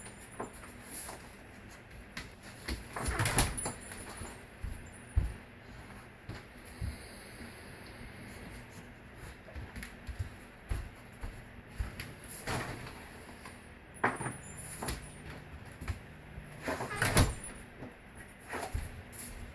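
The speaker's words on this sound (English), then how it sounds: "just open and close the door and drop treats" A house door is opened and closed repeatedly during dog training, giving faint, sparse latch clicks and soft knocks spread out across a quiet room.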